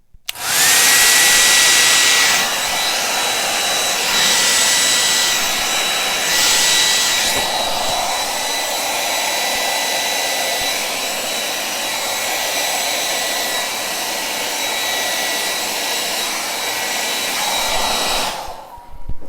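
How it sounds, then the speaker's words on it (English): A hair dryer blows across poured acrylic paint on a canvas in a Dutch pour fluid art session. Its loud, steady whoosh runs close and continuous for nearly twenty seconds, with only slight shifts in pitch as the airflow moves, and there is no speech. "We're just gonna go ahead and blow it."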